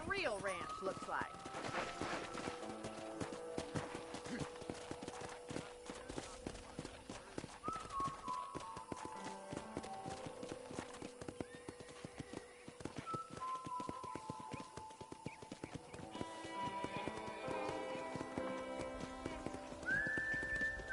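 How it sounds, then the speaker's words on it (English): Rhythmic hoofbeats of a galloping horse with occasional whinnies over continuous game music and ambient effects in Red Dead Redemption, steady and fairly loud throughout. "let's see if you can still ride a horse"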